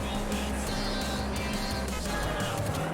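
A Dodge Neon racing in the video game Juiced, its engine droning steadily at moderate volume throughout, with a constant hum and occasional shifts in pitch as it accelerates.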